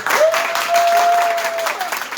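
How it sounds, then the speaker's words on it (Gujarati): An audience claps steadily to welcome guests at a Mataji devotional gathering, a dense, even wash of applause with a faint sustained tone running through it. "બધા એમને તાળીઓથી વધાવીએ"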